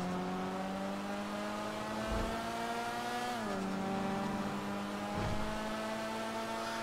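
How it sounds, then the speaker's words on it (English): A car engine in the video game GTA 5 drones loudly and continuously, its pitch sliding down and climbing again as the car revs and shifts at speed, with brief rumbles of tyre noise. "You gotta hear my car coming"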